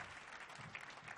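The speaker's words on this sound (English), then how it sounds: "Give them a round of applause." Audience applause in a performance hall at a U.S. Army Blues concert, steady dense clapping that carries on without a break through a short stretch with no voices.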